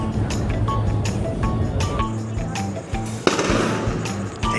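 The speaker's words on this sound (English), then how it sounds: "They got like t-shirt cannons for that thing." A t-shirt cannon fires from the Oasis of the Seas cruise ship in port, a single sharp bang rising over a dense, steady wash of crowd noise and ship rumble, with people talking throughout.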